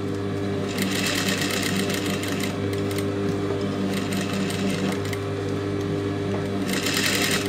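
Sewing machine stitching lace onto a blouse neckline, a loud continuous rapid needle clatter running the whole time with brief faster surges, and no talking.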